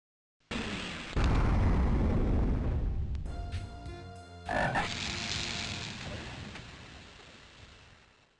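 The Fire Toad, a creature in the Ravenloft 2 video game, lets out a loud, rough croaking blast that swells and rumbles, breaks into a brief rattling, ringing stutter, then surges again before fading slowly.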